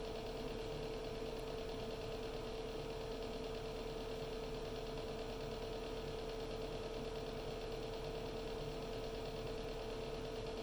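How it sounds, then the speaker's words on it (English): A Bluetti portable power station's cooling fan runs under heavy load, giving a steady, even whir with a faint constant tone that holds unchanged throughout, alone and with no voices. "The fan and the Bluetti came on."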